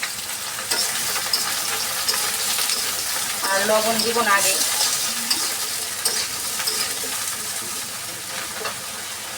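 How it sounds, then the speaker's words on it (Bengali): Ridge gourd and sliced potato fry in a pan, a steady crackling sizzle running the whole time with stirring scrapes, while a person talks over it. "এই যে ঝিঙেটাকে হালকা করে ভেজে নিব"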